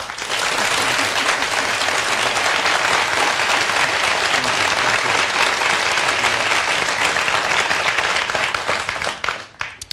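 A studio audience at a Boston mayoral debate between Mayor Walsh and Councilor Jackson applauds loudly and continuously, a dense wash of clapping that fades out in the last second.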